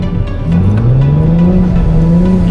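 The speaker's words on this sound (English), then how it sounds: "Let's try shifting mid-drift." A Nissan 370Z drifting in snow holds a loud, close engine note that rises steadily as it shifts gears mid-slide, with a brief dip near the start and no voices.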